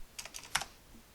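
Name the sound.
typing on a computer keyboard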